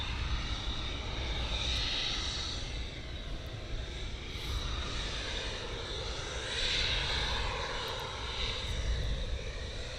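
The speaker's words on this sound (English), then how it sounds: "you could probably hear the jet now taxiing towards us" Jet aircraft taxiing at RAF Lakenheath during surge operations, a steady broadband engine roar and whine heard from a distance outdoors, swelling slightly as it approaches, with no talk.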